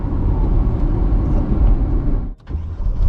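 A car engine runs steadily with a constant low rumble, dipping briefly near the end before returning.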